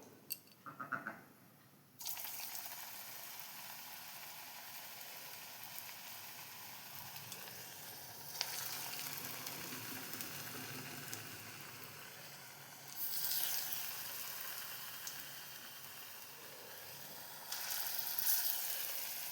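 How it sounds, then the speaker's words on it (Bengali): Raw banana koftas fry in hot oil over a low flame, giving a steady, soft sizzle that swells and eases at moments. No voices are heard. "আমি এগুলো হালকা আঁচে লাল করে ভেজে নেব।"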